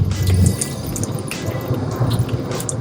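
Water runs steadily from a tap in an RV with the low mechanical hum of its water pump underneath, continuous and close, with faint drips and splashes.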